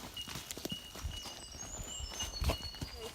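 A very large horse walks along a trail near a barn, its hooves clip-clopping in an uneven walking rhythm at moderate volume, fairly close, with no talk.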